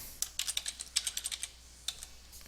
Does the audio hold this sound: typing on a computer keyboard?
yes